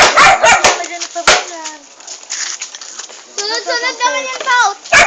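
A dog barks in short, close bursts at the start and again near the end, mixed with a child's chatter and other voices talking over it.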